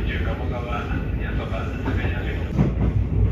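A JR 7200 series local electric train pulls into Sanuki-Fuchu station, heard from on board as a steady low rumble with some brake and wheel noise near the end, with a voice speaking faintly underneath.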